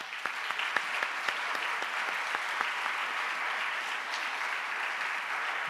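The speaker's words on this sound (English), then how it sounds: "So, yeah, give applause again." An academic conference crowd at an awards and closing session claps steadily, a dense wash of applause with a few sharper individual claps standing out, sustained throughout.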